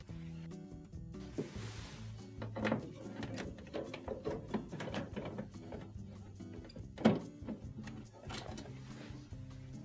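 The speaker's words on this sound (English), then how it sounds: "We will use a Phillips screwdriver to remove." A Phillips screwdriver backs out the screws on a dryer's control console, making small close clicks and ratcheting scrapes with a few sharper knocks from handling the panel. The sounds are quiet and mostly steady.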